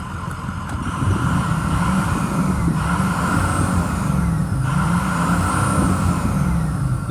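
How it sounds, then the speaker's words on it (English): A 2006 Ford E-450 Blue Bird Handy Bus engine with its check engine light on revs in a sustained, loud mid-range drone, with two brief swells in pitch while idling between them. "Let me rev it up for you so you can hear it."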